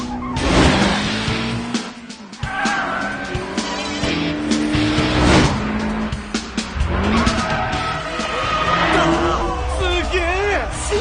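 A Toyota AE86 drifts hard with its tires squealing, mixed with a revving engine and a dense music bed, loud and continuous, while voices talk over it.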